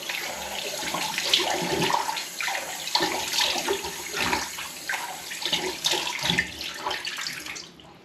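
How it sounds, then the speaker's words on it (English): Cold tap water runs steadily into a bathroom sink while hands splash it over a face after a vintage wet shave, a continuous close rushing with irregular splashes throughout, tapering off near the end. "I'm going to rinse my face with cold water now."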